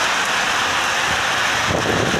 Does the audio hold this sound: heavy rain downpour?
yes